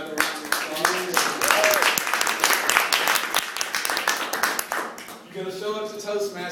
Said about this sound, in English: Let's give Santiago another round of applause.